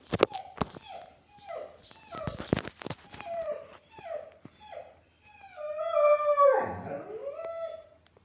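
A dog in the Minecraft mobile game lets out a series of short whimpers and whines with brief pauses between them, building to a longer, louder whine near the end.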